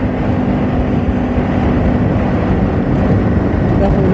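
A Yamaha TW200 motorcycle engine runs at full throttle while riding, a steady loud droning roar with constant low rumble, mixed with wind noise and a voice speaking over it.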